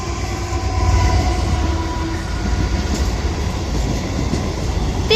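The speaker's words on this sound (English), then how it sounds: "Now passing through in the middle is going to be our first freight train of today" A Class 66 diesel freight train, number 66051, passes through Leamington Spa station as a loud, steady rumble and rolling wagon noise with faint squeals, filling the whole stretch close by.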